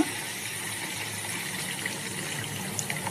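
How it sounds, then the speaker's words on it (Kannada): Water is poured into a sambar pot to cook the vegetables, a steady close gushing stream that runs without pause for the whole stretch. "ಹೋಳ್ಗಳು ಬೇಯಕ್ಕೆ ಸ್ವಲ್ಪ ನೀರು ಹಾಕ್ಕೊಳ್ಳೋಣ"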